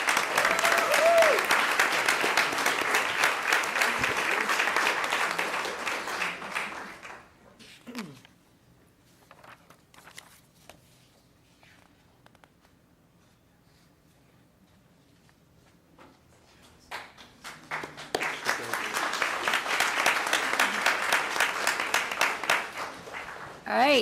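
A school board meeting audience applauds in two bursts of steady clapping, with a quiet lull between them where a few faint footsteps and shuffles can be heard.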